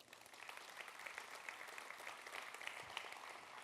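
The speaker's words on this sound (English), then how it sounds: "Can we just get a round of applause for everybody?" Conference audience applauding together, steady clapping from a crowd filling the space without pause, fairly distant and even in loudness.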